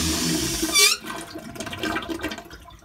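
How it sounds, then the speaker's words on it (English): A dormitory toilet flushes with a loud rushing burst of water that peaks sharply, then drains and gurgles more quietly as the tank refills nearby. "that's what our toilets sound like every time it flushes"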